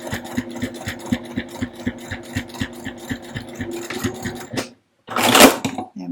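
A sewing machine runs a skinny eighth-inch seam on a fabric AirPods case holder, its needle hammering in a steady rapid rhythm for several seconds, stopping briefly, then a short sharp burst of handling noise.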